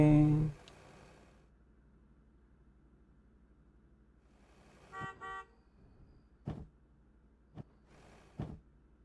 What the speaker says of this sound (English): there goes the truck.